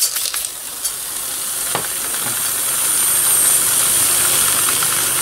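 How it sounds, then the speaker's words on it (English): Heated glass marbles dropped from a hot pot into ice water, giving a steady close sizzling hiss with faint crackles that swells slightly toward the end, with no talking. "these marbles right into the ice water and they're going to crackle for us"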